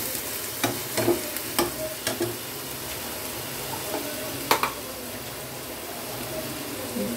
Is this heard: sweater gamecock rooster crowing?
no